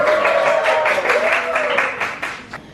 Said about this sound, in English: let's give Pamela applause here